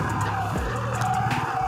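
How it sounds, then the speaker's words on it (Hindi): A car arriving on a narrow mountain road in Himachal Pradesh, with a steady, close engine rumble and rolling tyre noise that carry throughout. "यार सच में गाड़ी आ गई, मुझे रुकना ही पड़ेगा"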